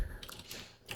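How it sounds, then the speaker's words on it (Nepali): Keys tapped on a computer keyboard while entering a web address into a browser's address bar, a short run of light, close clicks ending in a slightly louder keystroke. "ब्राउजरमा एड्रेस बारमा टाइप गर्नुहोस्"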